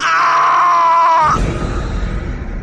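A loud, sustained scream of a person in a haunted building in a horror tale, a drawn-out wavering cry that breaks off abruptly into a low rumbling noise.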